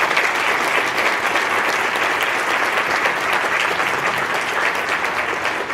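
An audience at a student affairs all-staff meeting claps steadily, a dense, even round of applause filling the room without pause.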